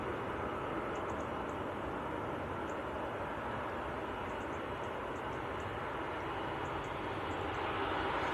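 Airbus A330 airliners taxi at Manchester Airport with a steady, broad jet-engine roar that holds evenly throughout, distant and fairly faint, with no voices over it.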